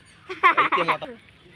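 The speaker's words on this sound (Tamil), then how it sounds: "நல்ல பெரிய கோழியாக இருக்குது." A large chicken clucks at a children's park in Chennai, a short burst of several close, fairly loud calls in quick succession over quiet background noise.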